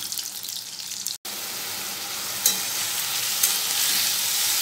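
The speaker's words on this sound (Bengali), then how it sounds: "পটলটা ভাজার পরে এঁচোড় আর আলুটাও ছেড়ে দিয়েছি, একবারে সবই ভেজে ভেজে নেব।" Steady, dense sizzle of pointed gourd, jackfruit and potato frying together in oil in a pan, loud and continuous with a brief gap and a few bright spatters, no voices.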